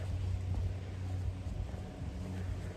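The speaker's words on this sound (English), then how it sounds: "Still super crazy windy though, I'll tell you that." Strong wind blows outdoors after a thunderstorm, a steady low rumble buffeting the microphone without pause, moderately loud and unbroken by voices.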